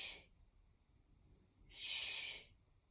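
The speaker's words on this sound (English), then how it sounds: "It's kind of a shushing exhale," Two shushing exhales blown between the teeth during a HIIT and yoga workout, each a soft, airy hiss, the first brief and the second longer and louder, alone with no talk.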